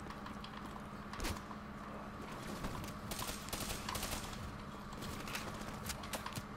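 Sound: gunfire from Black Ops 3 campaign, video game

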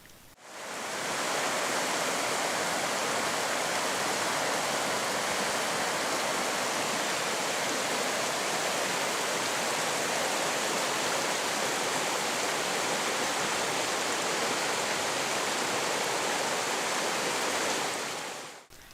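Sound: flowing mountain streams near a cave

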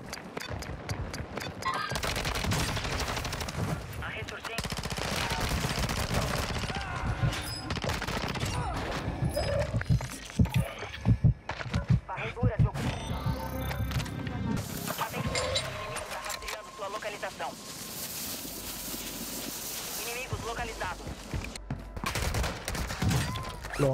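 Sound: gunfire in the video game Warzone 2

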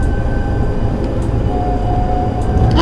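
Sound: tram approaching in TramSim München video game

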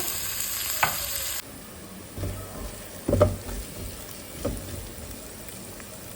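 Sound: onions frying in oil in a pan

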